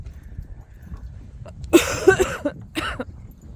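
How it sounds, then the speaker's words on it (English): A quick cluster of close, raspy coughs, then one more short cough, over a low background rumble of a blizzard outdoors. "So, sorry about the coughing."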